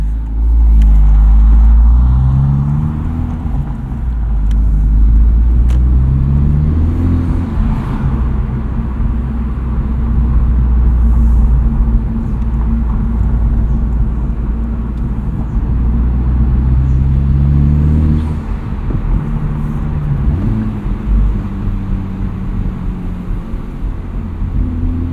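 A 2023 Honda Civic Type R with its front resonator deleted, exhaust droning low and smooth while cruising, rising and falling through several gear changes and throttle swells, a steady near rumble inside the cabin.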